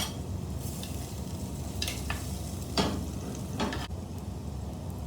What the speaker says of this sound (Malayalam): ഇനി ഈ മഞ്ഞൾപ്പൊടിയും കൂടി ഇട്ട് ഒന്ന് ഫ്രൈ ചെയ്യാം